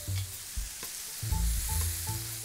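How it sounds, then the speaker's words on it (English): Steak strips with peppers and onions sizzle in a hot pan for fajitas, with several soft clanks and scrapes as the mix is tossed over a steady, close frying hiss. "I'm gonna let these guys just kind of caramelize, give them a nice little toss."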